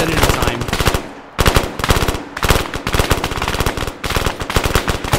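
Sustained automatic gunfire from the Arma 3 video game during a New York City zombie attack: loud, rapid bursts of shots with brief pauses between strings, close and dense, no talk over it.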